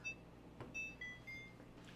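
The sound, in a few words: kitchen timer beeping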